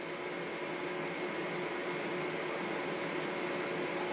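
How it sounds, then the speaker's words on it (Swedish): A vacuum cleaner runs in a home, a steady, even whooshing roar that holds at the same level throughout with no voices over it. "Snälla Katarina, du kan inte sätta igång dammsugan nu när jag har revisor i telefonen!"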